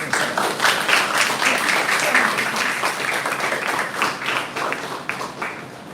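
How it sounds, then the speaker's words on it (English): A school audience at an academy rhetoric event claps together in a steady, dense round of applause that stays fairly loud and close throughout, easing off slightly toward the end. "Please clap hands."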